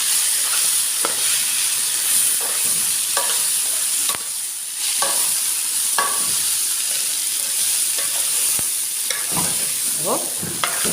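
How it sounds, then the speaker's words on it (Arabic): Rice is stirred in a hot pot, with steady scraping and shuffling strokes over a continuous sizzle and hiss, close up, with a brief spoken word. "هقلب بقى في الرز ده كده لحد ما يتبدر معايا"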